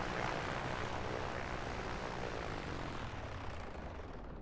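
The turboprop engines of a Cessna F406 Caravan II shutting down in Microsoft Flight Simulator 2024 give a broad, steady roar that slowly thins as the high whine fades, with no voices over it.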